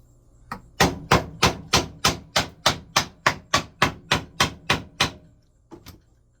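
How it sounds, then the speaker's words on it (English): Hammer blows driving things in: about fourteen sharp, evenly spaced strikes, loud and close, followed after a short pause by one or two lighter taps. "Just hammer them in."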